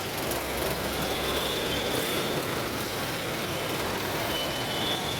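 A steady, loud rail rumble fills the space, with a faint high tone rising and fading, like a train idling or moving at Recto station.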